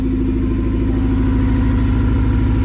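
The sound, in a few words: car engine idling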